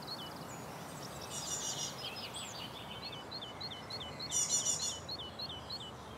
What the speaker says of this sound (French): Il y a des mésanges qui sont là,